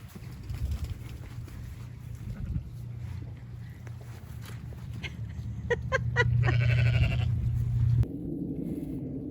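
Sheep being moved to a new pasture, with several short bleats around the middle over a busy outdoor background of rustling and movement.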